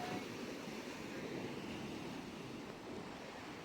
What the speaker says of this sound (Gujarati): ઊંડું નથી પણ આ પાણી કેટલું વેગ મારે છે.